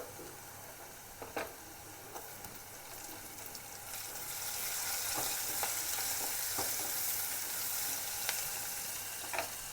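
Chopped onions and green chilies fry in oil in a pan, a steady soft sizzle that swells midway, with occasional light clinks and stirring sounds close by.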